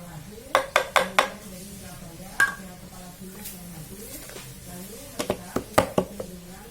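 Spoon clinking and scraping against a bowl while banana nugget batter is mixed with sugar, a few sharp knocks in quick bursts near the start and again toward the end, with low background noise between.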